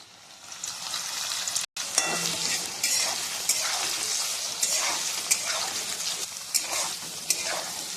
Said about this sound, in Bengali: পনিরটা একটু ভেজে নেব। একটু বাদামি কালার করে ভেজে নেব।